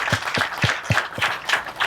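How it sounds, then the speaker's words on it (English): A small group claps during a school beam-topping ceremony, about seven distinct evenly spaced beats in a steady rhythm, close and moderately loud. "I also would like to give a round of applause."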